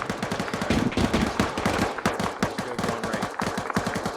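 Rapid bursts of automatic gunfire in the military shooter ArmA 3, with loud, close, irregular volleys of sharp cracks over several seconds and no talk.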